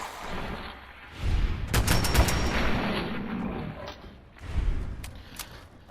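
Gunfire at a ghoul in the video game Fallout 4: a burst of several sharp rapid shots, then a single heavier blast a few seconds later, over a low rumbling game ambience.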